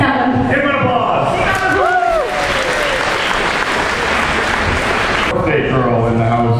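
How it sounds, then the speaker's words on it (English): A crowd at a Sunday event applauds a player named Callum after a scored goal, with broadband clapping and cheering. It sounds dense and loud over a steady crowd roar, and a voice talks over it at the start and end. "Give him an applause."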